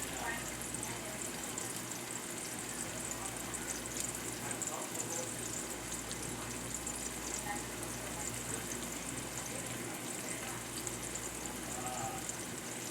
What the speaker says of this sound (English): So what you need to do is just fry up your onions